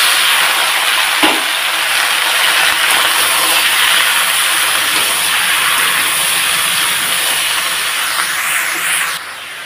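A bottle gourd goes into a hot pan for a lentil-and-gourd curry, setting off a loud, steady hiss that runs unbroken for nearly ten seconds, with a brief thump near the start.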